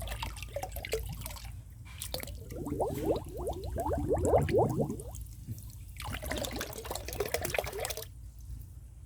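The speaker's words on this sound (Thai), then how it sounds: "เดี๋ยวเราจะใส่เครื่องดื่มชูกำลังลงไปในน้ำกันนะฮะ" Energy drink poured into water, a close trickling and splashing stream with bubbly gurgles that swell and fade in a few bursts over a low background hum.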